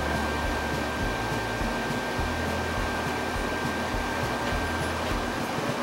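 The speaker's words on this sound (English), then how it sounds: "that blower is messing up the microphone, but it sure does feel good" An air blower runs right beside the microphone in a workshop, a loud, steady, unbroken rush of wind noise.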